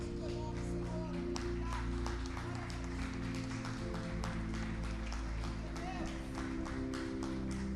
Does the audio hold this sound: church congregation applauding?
yes